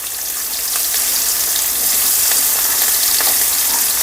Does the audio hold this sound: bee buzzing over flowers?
no